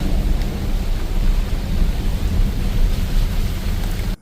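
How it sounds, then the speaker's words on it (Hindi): Heavy evening rain pours down as a dense, steady roar lasting about four seconds, loud and close, then cuts off abruptly. "आज बारिश भी काफ़ी तेज हो रही है"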